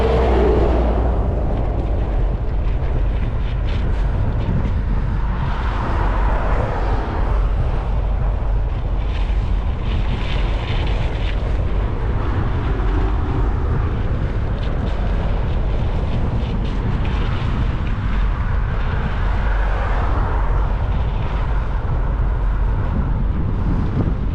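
Steady wind buffeting the microphone while cycling through a city, a continuous low roaring rumble with gusty fluctuations throughout and no voices.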